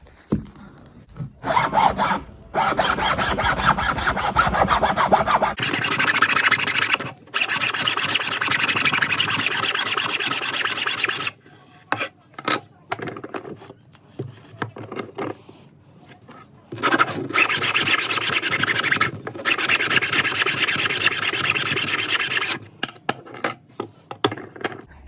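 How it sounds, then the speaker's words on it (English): A flat bastard file rubbed over joined wooden toolbox parts, with long rasping strokes in steady bursts separated by short pauses, close and fairly loud. "I can use a flat bastard file to smooth these both out"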